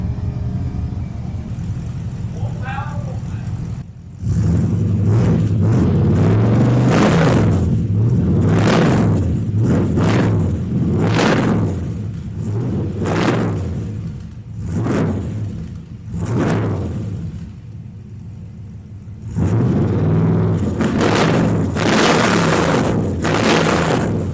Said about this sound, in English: No, it sounds real good idling. It ain't real loud.